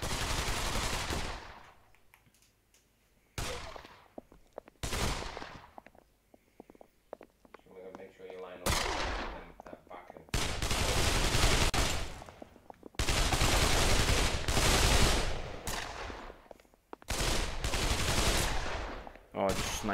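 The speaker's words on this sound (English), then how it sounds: "Oh, someone's shot him." Loud bursts of rapid gunfire from a VR shooter game played on an HTC Vive repeat across the stretch, separated by brief quiet gaps, with excited voices reacting over the shots.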